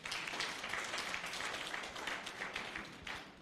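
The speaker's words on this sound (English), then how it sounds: "I think he deserves a round of applause." Audience applause at a fellows' public lecture event fills the room: dense, steady clapping from many hands, sustained throughout without any speech.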